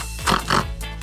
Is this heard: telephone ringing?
no